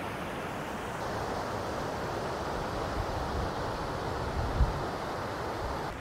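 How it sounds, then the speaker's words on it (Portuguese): The first drop of Cachoeira do Quilombo waterfall in Serra da Canastra, Brazil, gives a steady, broadband rushing roar of falling water that holds constant and moderately distant, with no one talking. "Chegamos aqui, primeira queda da Cachoeira do Quilombo."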